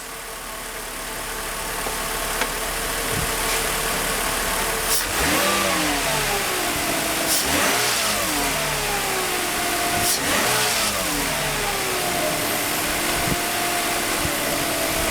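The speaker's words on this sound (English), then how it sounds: "Let me give you some gas" A Mercedes M104 engine with a deteriorating wiring harness idles steadily, then is revved several times with the gas pedal, each rev swelling and settling back over the constant hum.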